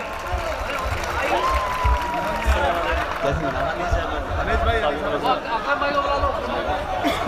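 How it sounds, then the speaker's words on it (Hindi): A large crowd at a Hindi-Urdu mushaira poetry gathering in 2019 claps and chatters as a poet is welcomed, a dense wash of applause mixed with murmuring voices and noise from the crowd. "पुरजोर तालियों से उनका इस्तकबाल करें"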